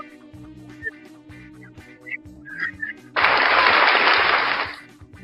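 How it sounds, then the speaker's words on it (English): A short burst of applause on a breakfast livestream show, loud and even for about two seconds, following stretches of someone talking with small chirping sounds in the background. "As always, round of applause."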